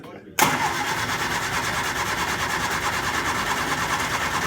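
A 1967 Triumph Spitfire Mk II having trouble starting, its engine cranking steadily and loudly right after a sharp onset, holding a continuous churning drone up close.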